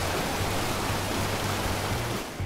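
The Balaifossen waterfall in Norway pours in a continuous, dense broadband roar of falling water, steady and unbroken throughout with no voices.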